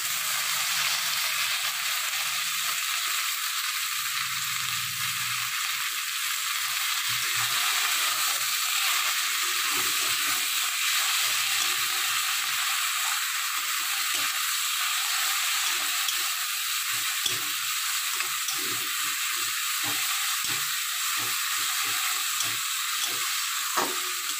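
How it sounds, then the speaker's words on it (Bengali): Taro leaves from Bardhaman and prawn heads sizzle in hot oil with a steady, even hiss that holds through the whole stretch, close and fairly loud, with faint clinks now and then. "এবার দিয়ে দেব ধুয়ে রাখা বর্ধমান কচুর পাতা।"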